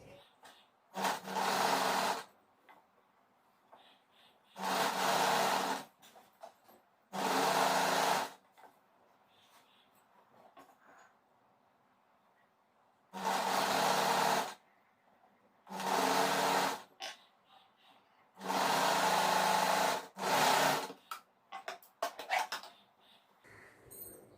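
A domestic sewing machine runs in repeated bursts of steady whirring stitching along nightsuit fabric edges and a neckline lining, six or seven runs separated by short quiet pauses, close and fairly loud with no talk.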